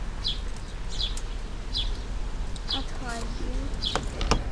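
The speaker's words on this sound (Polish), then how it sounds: "Wróbelki już zauważyły, co Kasia?" Sparrows behind a low wall near a trap give short, faint chirps every second or so over steady outdoor background noise, with a brief voice speaking partway through.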